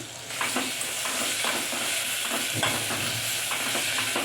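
Ingredients sizzle and crackle steadily in a hot pan, a continuous frying hiss broken by a few stirring clinks and scrapes, close and fairly loud with no talk.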